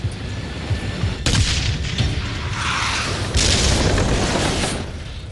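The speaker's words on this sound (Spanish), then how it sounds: "El segundo disparo alcanza la torreta del tanque enemigo." A heavy boom of an anti-tank cannon shot hitting an enemy T-54 tank's turret, followed by a rumbling blast and debris noise, then a second burst of impact roar.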